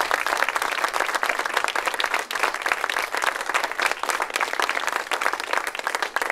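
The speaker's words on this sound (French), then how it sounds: "Je vous demande de l'applaudir." Sustained applause from an audience at a round-table event, dense and steady clapping that fills the whole stretch without pause or talk.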